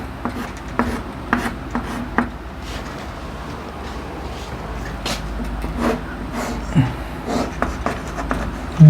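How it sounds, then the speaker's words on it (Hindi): A pen writes out four answer options on paper, giving a steady close scratching and rubbing with short strokes and taps throughout, fairly loud over a faint background hum and no speech. "देखिए मैं इसके चारों ऑप्शन लिख रहा हूँ"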